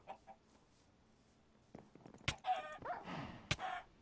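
Chickens cluck in the Minecraft video game, short bursts of fowl calls mixed with a few sharp game sound effects, fairly quiet and intermittent.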